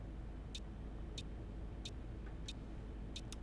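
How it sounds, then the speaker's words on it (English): A tour bus turn indicator in a simulator game ticks faintly and evenly, about six clicks spaced roughly two-thirds of a second apart, over a low engine rumble. "Got quite a weak indicator noise for such a big thing."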